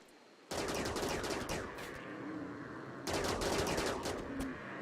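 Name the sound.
charge shots fired in the video game Rimworld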